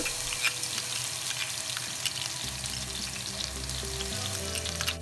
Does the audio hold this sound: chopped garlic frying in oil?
yes